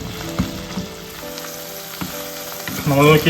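Okra sizzling as it fries in a pan, a steady crackle that swells louder near the end, with brief stirring; a voice speaks a few words in the middle.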